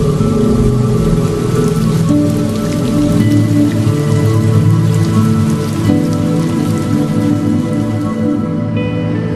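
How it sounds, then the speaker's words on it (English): Heavy rain pours down steadily and loudly for the whole stretch, a dense, continuous wash of drops hitting surfaces with no voices over it. "The rain has been very heavy these days, like tears shedding from heavens"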